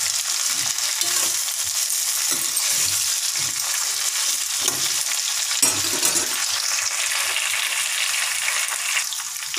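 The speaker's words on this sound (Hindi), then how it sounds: "5 मिनट में ये भूननी है गोभी, मतलब फ्राई करनी है हल्की सी।" Cauliflower and potato fry in a pan with a steady, loud sizzle that fills the whole stretch, broken by occasional scraping stirs, close by and with no voices.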